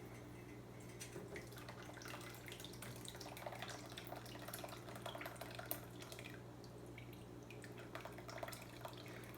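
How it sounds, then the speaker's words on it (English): Fermented hot pepper mash poured through a strainer, with a steady close trickle and drip of liquid running continuously throughout. "So I'm just going to pour this on through"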